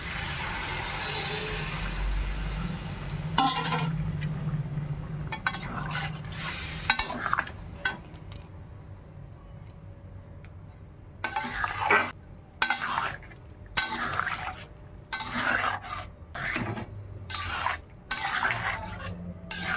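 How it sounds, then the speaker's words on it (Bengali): Spiced goat lung curry in a pan as hot water goes in: a continuous loud sizzle, then repeated metal spoon stirring and scraping clinks against the pan, close and without talk. "গরম করে রাখা জল দিয়ে দিলাম।"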